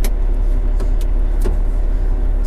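Volvo A40G articulated dump truck driving around a dirt pile, its engine a steady, fairly quiet low rumble close by with a few faint clicks and rattles on top.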